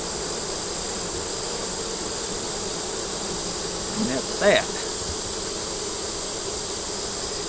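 Honeybees buzz at a beehive in a steady, faint drone, with a voice briefly speaking over it midway.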